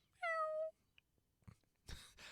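A cute little kitty cat gives one clear, close meow, followed by faint soft rustling and a couple of brief breathy noises.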